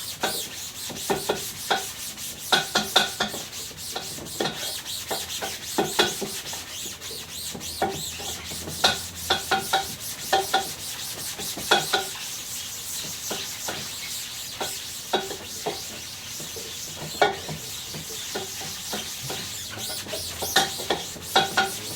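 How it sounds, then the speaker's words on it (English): A wet scrub brush rubs back and forth across a screen printing screen, giving steady rhythmic scratchy strokes, close and fairly loud, with no voices. "Start scrubbing."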